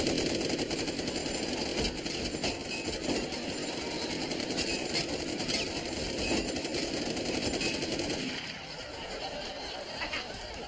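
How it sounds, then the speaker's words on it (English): A machine gun fires in a long, dense stream of rapid rattling shots, loud and harsh, then cuts off about eight seconds in, leaving a quieter background murmur. "I was just showing her how to use a machine gun."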